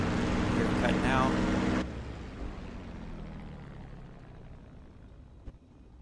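After the fuel is cut, a TF-51 Mustang's piston engine roar drops abruptly partway in and fades into a lower, dying rumble as it winds down; a voice speaks over the engine at the start.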